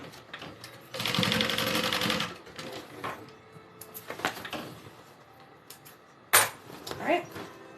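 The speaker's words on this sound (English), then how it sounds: "this is the last side seam I'm gonna sew open" Sewing machine running a backpack side seam open, one short burst of fast stitching near the start followed by handling clatter, fabric rustle and a few sharp knocks.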